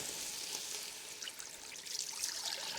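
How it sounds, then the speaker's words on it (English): Sauce poured into a hot pan of vegetable ramen stir-fry, a soft continuous sizzling hiss with faint trickling, quiet and close. "pour the sauce directly into there."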